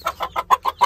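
A hen being caught by hand gives six rapid, evenly spaced clucks, close and loud, with no voices.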